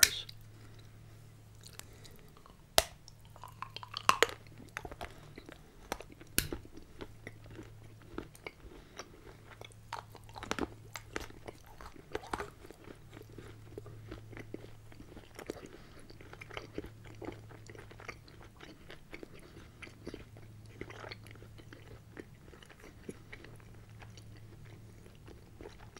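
Close, crisp chewing and biting of a MrBeast Feastables chocolate bar with finely chopped almonds, irregular crunches and soft squishy mastication over a faint steady hum, with no talking.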